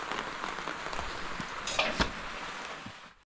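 Steady rain falls outdoors on a farm, a continuous close hiss with scattered drips, plus a couple of brief knocks or thumps near the middle.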